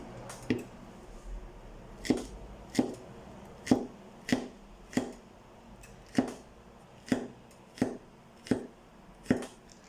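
Knife chopping and slicing crushed garlic on a cutting board while making Portuguese feijoada: a steady series of about a dozen crisp, close knocks, roughly one every eight-tenths of a second, over a quiet room background.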